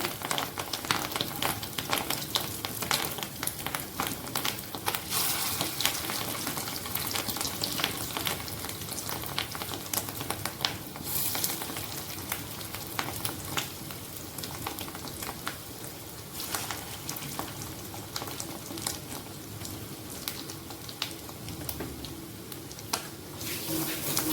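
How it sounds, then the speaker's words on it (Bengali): Fish roe fritters sizzle in oil over lowered heat, a dense continuous crackle with scattered pops and spatters held close and steady throughout, without speech. "হ্যাঁ, একদম বড়া ভাজার সময়।"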